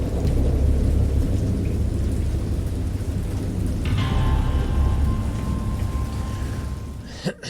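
Steady heavy rain with low rumbling thunder rolling through, a brief sharp crack near the end.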